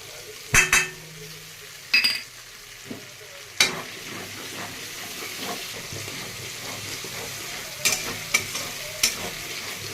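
Ginger paste with tomato sizzles and fries steadily in a pan, broken by several sharp clinks of a spoon scraping and stirring against metal.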